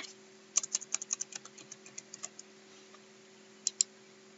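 Quick, light keystrokes tap out a short burst on a computer keyboard, followed after a pause by two sharper clicks, close and quiet with no talk.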